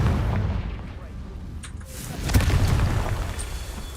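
A Confringo fire spell bursts in Hogwarts Legacy: a deep boom with crackling debris, loud and close, with someone talking over the game sounds.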